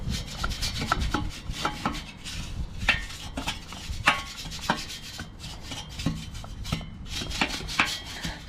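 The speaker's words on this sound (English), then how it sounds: "Now the back of this plate is relatively clean. I'm just going to dust it off with the brush." A brush sweeps ash and dust off the back of a wood boiler plate in repeated short scraping strokes, with occasional metallic taps close by.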